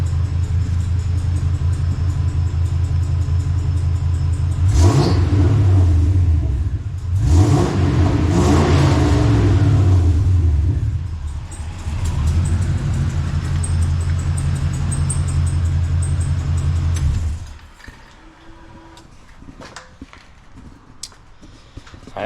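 A Jeep Scrambler engine runs loud and close, rising through several sharp revving bursts over a steady idle rumble before dropping to a quieter idle near the end.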